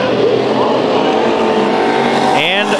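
Hobby stock race cars run on a speedway with a loud, steady engine roar throughout, one car sweeping past near the end, while an announcer talks over the noise.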